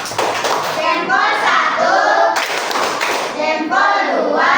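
A classroom of children clap their hands in rhythmic bursts during a thumb-clap chant game, the loud, close claps mixed with their chanting voices.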